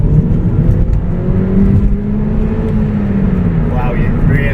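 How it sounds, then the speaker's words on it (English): A Mini Cooper Coupe S 1.6 JCW engine roars loudly from inside the cabin as it accelerates in sports mode on a country road, with a low droning exhaust note and rising pitch. "You can really hear the roar from the engine and that great note from the exhaust."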